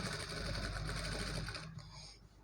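A sewing machine stitches a heavy-work blouse design in a continuous close rattling hum that eases off near the end.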